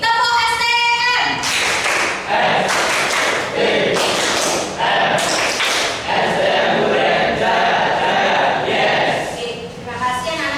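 A class of students performs the 'tepuk STM' clap chant, with rhythmic bursts of group handclaps and thumps mixed with chanting voices, loud and close, running for about ten seconds.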